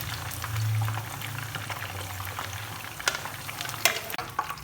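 Fish pieces sizzle steadily in hot oil in a pan while being fried on their second side for a fish salan, with a few sharp clinks and stirring scrapes rising over the continuous crackle.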